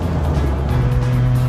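A DeLorean DMC-12 with a 2.8-litre V6 accelerates with a loud, steady engine roar that holds close throughout. No one speaks over it.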